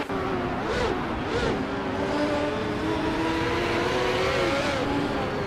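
Race cars roar along a track in a steady, loud engine drone with rising and falling pitch as they pass, layered with a continuous wash of track noise.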